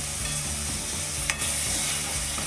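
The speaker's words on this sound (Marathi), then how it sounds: "मसाला चांगला परतला की त्यामध्ये आता टोमॅटो घालून घ्यायचा" Chicken masala frying in a pan with tomato just added, a steady broadband sizzle with stirring scrapes and a brief sharper hiss partway through, close and alone without talk.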